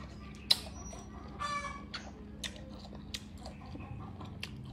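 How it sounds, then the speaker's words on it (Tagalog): Chickens cluck and squawk here and there at a distance in a rural province, scattered short calls over a quiet background. "Dito kasi ako sa province, kaya ang dami kang narinig na manok."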